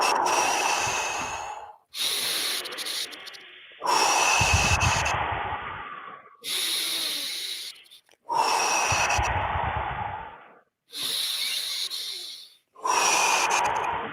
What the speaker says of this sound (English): 5 deep breath in and out